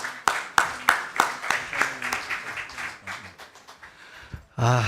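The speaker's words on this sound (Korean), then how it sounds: "큰 박수로 모셔주시기 바랍니다" Slow, evenly spaced handclaps ring out about a dozen times, fading gradually, as a lawmaker is welcomed at a Korean policy seminar on industrializing plasma technology; a voice starts speaking right at the end.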